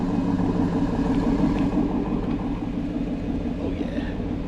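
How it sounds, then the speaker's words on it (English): A 2024 Chevy Suburban RST engine with a Corsa Performance exhaust rumbles steadily at close range with a deep, even idle. "I ended up putting a Corsa Performance exhaust on it."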